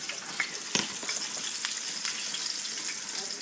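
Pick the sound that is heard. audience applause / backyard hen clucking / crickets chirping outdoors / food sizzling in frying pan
food sizzling in frying pan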